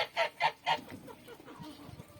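Three loud, evenly spaced domestic goose honks ring out close by at feeding, followed by softer, scattered honking and murmuring calls.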